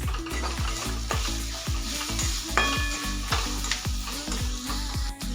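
Chopped onion and tomato with turmeric sauté in a pan for a pavta bean gravy, a loud continuous sizzle under a regular rhythm of spoon scrapes and stirring strokes, with no voices.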